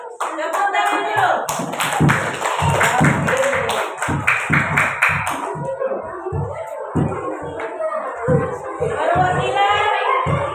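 A grade 5 class at an elementary school claps for a group returning to their seats, rhythmic hand claps overlapping with children's voices and chatter throughout.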